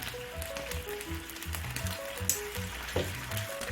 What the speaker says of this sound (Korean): 준비해 놓은 물전분을 풀어주겠습니다